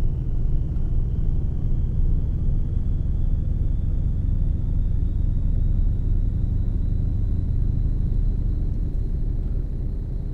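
A truck rumbles at a steady low drone as it rounds a roundabout in Euro Truck Simulator 2, with a faint rising whine above the continuous engine noise.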